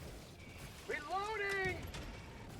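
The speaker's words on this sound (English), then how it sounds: "Reloading." A weapon reload in the video game Helldivers 2: a short mechanical clatter and click sequence near mid-clip, quiet against a low game ambience, while a voice calls out.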